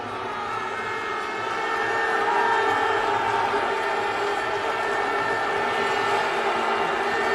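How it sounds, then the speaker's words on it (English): A large cricket stadium crowd roars in a sustained, swelling wash of cheering and noise, steady and distant, with no distinct voices standing out. "Crowd responds again."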